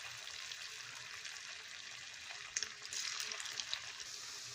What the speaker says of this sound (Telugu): చూశారు కదా, మనకైతే ఆయిల్లోనైతే సరిపడానైతే ఈ చికెన్ పకోడీని అయితే అందులో అయితే వేసేయండి.